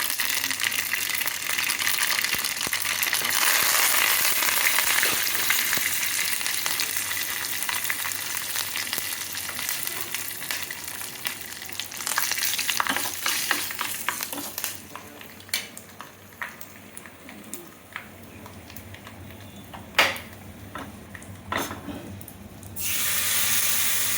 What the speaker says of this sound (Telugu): నూనె వేసి ఆయిల్ వేస్తున్నాను. పోపు పెట్టుకుంటున్నాను.